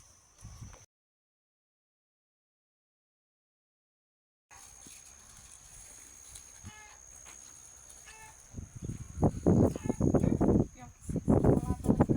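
Free-range chickens loose in a fenced farmyard cluck and call intermittently, growing louder and busier toward the end, with a steady high insect-like whine and a gap of near silence early on.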